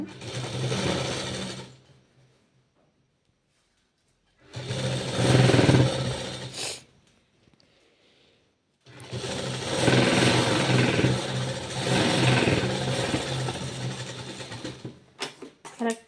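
Sewing machine stitching the side seam of a blouse, running in three loud, steady whirring bursts separated by short silent pauses, with a few brief clicks at the end.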